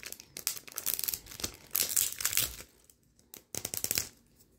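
Plastic packaging on Mini Fashion Series 1 toys is crinkled and torn open, with close, loud bursts of crackling and ripping that come in uneven spurts and then briefly go quiet.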